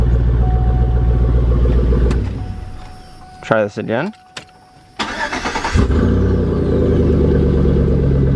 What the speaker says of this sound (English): It's got a whistling noise to it now.